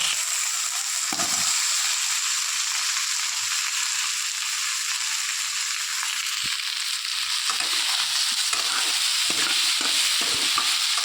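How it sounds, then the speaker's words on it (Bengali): Boiled elephant foot yam frying with spices, giving a steady, close, bright sizzle throughout, broken later by scraping stirs. "মশলার সঙ্গে ওলটাকেও ভালো করে বেশ কিছুক্ষণ ধরে কষিয়ে নিতে হবে।"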